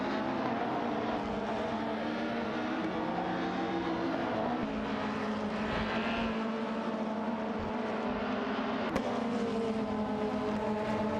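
Race cars in a racing video game, including a 1998 Ford Mondeo, roar and whine continuously at steady loudness, with several engines layered in a dense field and no voices.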